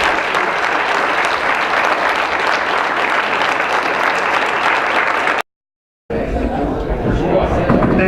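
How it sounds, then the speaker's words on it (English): Sustained loud applause from a lecture audience honoring speaker Dan Barker, with crowd chatter mixed in, broken by a brief dropout before the clapping resumes. "let's get a round of applause for Dan Barker"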